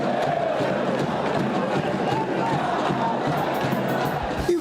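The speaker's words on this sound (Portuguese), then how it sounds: "a torcida voltou a cantar" A large football stadium crowd roars and sings at Santos' ground, a dense continuous wall of voices with a few whistles near the end.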